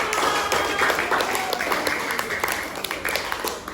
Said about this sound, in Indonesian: kasih tepuk tangan dari kelompok 5